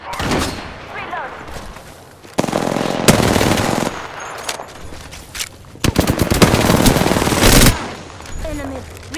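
Automatic gunfire in the video game Apex Legends, loud rapid bursts and heavy volleys repeating across the clip, with a game voice speaking between them.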